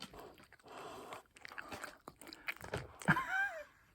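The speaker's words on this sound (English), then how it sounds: "People can hear you chewing now." A cat chews and crunches on food up close, with irregular wet biting sounds and small crunches over a few seconds.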